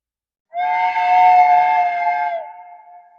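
A train whistle at a railway platform, one sustained tonal blast of about two seconds that fades into a short lingering tail, loud and clear with nothing else underneath.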